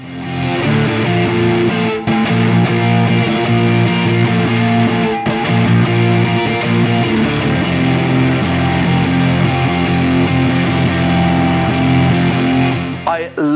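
An electric guitar played through a ROSS Distortion 2023 pedal gives a loud, sustained, heavily driven tone that rings out steadily for several seconds before trailing off.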